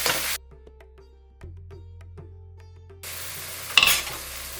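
Spinach thokku cooks down in oil in a pan. A hissing sizzle fades out into faint ticking, then returns loudly with a scrape near the end.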